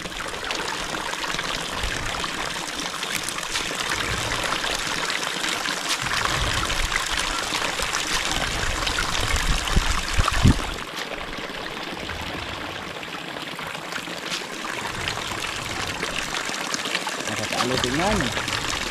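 Rainwater pours steadily from a height during the rainy season, splashing hard where it lands in a continuous rushing stream; voices talk over the loud, unbroken flow throughout.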